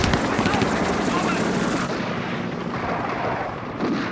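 Grenade blasts and gunfire from a 1969 James Bond action scene, On Her Majesty's Secret Service, sounding as a dense, continuous roar of explosions and shots that stays loud throughout, with a voice occasionally talking over it.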